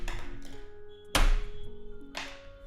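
Thumping and smacking on a malfunctioning computer keyboard, a few soft taps followed by one hard, loud thunk near the middle, with a quiet steady electronic tone running underneath.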